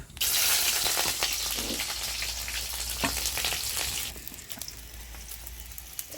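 Garlic, green chili and nigella seeds hit hot mustard oil with a loud, close, continuous sizzle and spatter that fades to a softer, steady frying crackle partway through.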